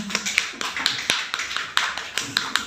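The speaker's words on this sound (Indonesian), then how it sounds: "Tepuk tangan untuk kelas 6." Sparse, uneven hand claps from a small group in a sixth-grade classroom, individual claps standing out irregularly against a quiet room.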